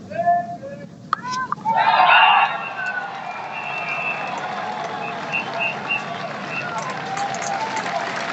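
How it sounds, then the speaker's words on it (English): Cricket crowd at a ground applauding a batsman reaching fifty, a broad wash of clapping and cheers swelling briefly then settling into a steady distant murmur, with a commentator's voice over it at times. "the extra applause now for Gordon Greenidge, reaching 50 out of a total of 77"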